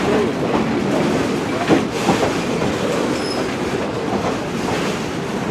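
Freight locomotives on the Arizona railroad rumble past with a steady loud roar, rolling wheel noise and faint metallic squeals, a continuous train passage heard up close.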